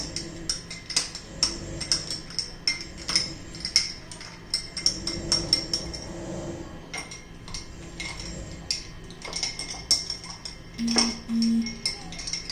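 A spoon stirs cumin powder into fennel sherbet in a glass, with repeated bright clinks and taps in irregular bursts, close and clear, pausing briefly before resuming.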